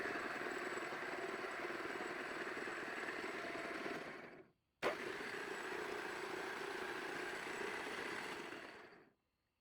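An OF-55 milling machine running through its gear speeds, a steady mechanical whir and hum that stops briefly midway, then restarts with a thump and runs again before cutting out.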